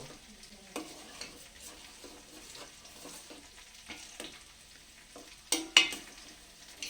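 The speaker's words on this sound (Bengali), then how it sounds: "ঘিটা দিয়েছি, যে এখন ভালো করে একটু ঘিটা চারিদিকে একটু মিশিয়ে নেব" Ghee being stirred through lentil khichuri in a pot off the heat, with soft scraping strokes and a faint residual sizzle, close and quiet, with a couple of sharper knocks of the spoon near the end.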